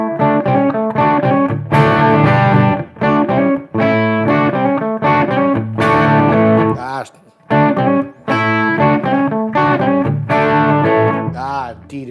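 Distorted electric guitar plays a chunky new riff, loud rhythmic chord stabs with short gaps between phrases, close and alone with no talking.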